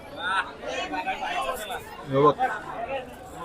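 Village crowd chatter at a Dussehra festival feast in Bhingar, a dense babble of many nearby voices talking over one another at moderate loudness.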